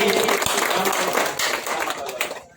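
Loud crowd applause at an Ambedkarite ceremony in Sakra, Ambedkar Nagar, a thick wash of clapping mixed with voices that thins and fades away near the end.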